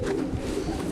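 A silver racing homer pigeon gives a soft, close, low coo, a brief throaty murmur heard on its own.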